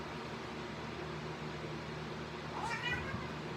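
Two cats fighting indoors, a brief rising meow near the end over a steady hum of room noise, with a person's voice faintly present.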